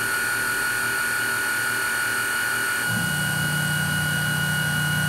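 An FRC2 CNC milling machine works electrolytic copper with a drilling cycle, giving a steady, close mechanical whine with layered tonal hum; partway through, a lower motor drone joins as the spindle shifts position, with no talking heard.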